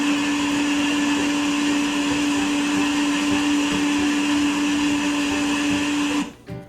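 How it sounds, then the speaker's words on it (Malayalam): A mixer grinder blends berries with coconut milk for a keto juice, making a loud, steady motor whine with a strong constant hum that runs for about six seconds, then cuts off abruptly. "ഞാനിതൊരു മിക്സി ജാറിലേക്ക് ഇട്ടു തേങ്ങാപ്പാലും ഒഴിച്ചു ആദ്യം കുറച്ച് തേങ്ങാപ്പാൽ ഒഴിച്ചിട്ട് ഒന്ന് അരച്ചെടുക്കാം"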